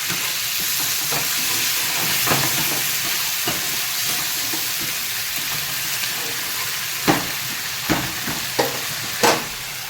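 Spices and onions frying in oil for a Bengali fish curry, stirred with a splash of water: a continuous close sizzle and hiss with scraping stir strokes and sharper spatters toward the end.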